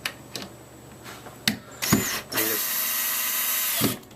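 Power drill driving screws into a wall patch, a few brief clicks and trigger pulses, then a loud, sustained whine as a screw is run in for about a second and a half, close up, no talking.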